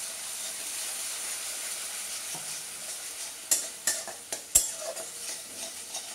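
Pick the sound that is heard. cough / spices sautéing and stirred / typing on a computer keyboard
spices sautéing and stirred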